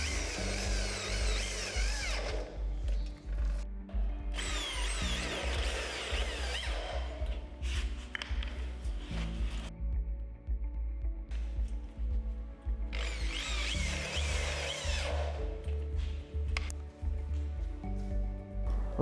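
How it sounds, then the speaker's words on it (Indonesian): A power drill bores through material in several long bursts, the high whining motor starting and stopping with short pauses between runs, close and steady with no talking. "kita bor bagian lainnya"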